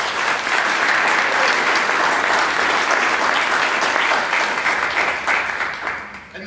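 Sustained applause from an audience at a ribbon cutting for the grand opening of Tube City Center, dense and steady throughout before easing off slightly at the very end.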